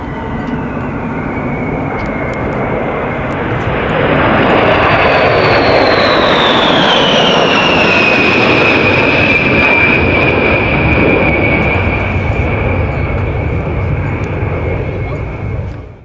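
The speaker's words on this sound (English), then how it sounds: "the aircraft now returns for a fast pass at around 390 knots." A jet aircraft with its weapons bay open makes a fast pass at around 390 knots, swelling to a loud roar, then a descending whine as it passes overhead and trails away, with faint talk underneath.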